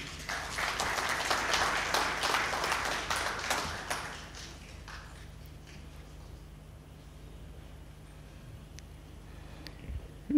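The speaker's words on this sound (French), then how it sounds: "que je vous prie d'applaudir." Applause from an audience at a panel discussion on port-city relations greets a second panelist, starting as dense clapping that fades after about four seconds into quiet room tone with a few scattered claps.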